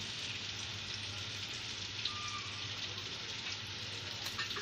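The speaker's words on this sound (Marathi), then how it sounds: "आता ही बाजू पण आपण चांगली फ्राय करून घेऊया." Bitter gourd (karela) slices fry in oil in a pan, giving a steady, even sizzle that runs throughout at a moderate, close level with no one speaking.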